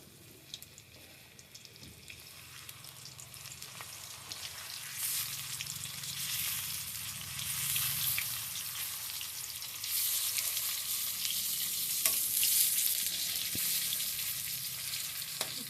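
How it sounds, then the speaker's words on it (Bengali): Stuffed pointed gourd (kakrol) fritters fry in oil, a soft continuous crackling sizzle that swells louder midway and stays fairly quiet and close, with no voices. "পুর ভরা কারকলের মুচমুচে বড়া ভাজা হয়ে গেছে"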